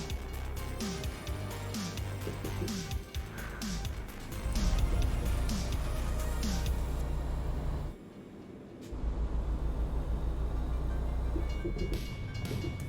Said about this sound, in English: Oh, we have to wait for the train anyway.